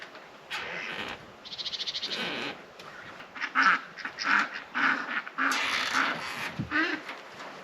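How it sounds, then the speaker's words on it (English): Ducks quack repeatedly nearby outdoors, with bursts of rapid quacking, honks and overlapping calls coming and going at a fairly loud level. "You may notice in the background there is a lot more ducks than we used to have."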